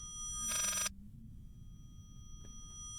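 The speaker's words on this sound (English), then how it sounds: "It is a phone ringing backwards, isn't it? The sound of a phone ring backwards." A reversed telephone ring from the horror video game Layers of Fear: one short, bright burst of bell-like tone that cuts off abruptly, followed by quiet room tone and a faint later click.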